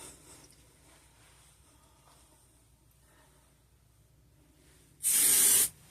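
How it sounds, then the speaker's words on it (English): A single loud, close hiss of wig spray being applied to a curly synthetic wig, a burst of under a second that comes after several seconds of quiet handling noise. "I got the wig spray."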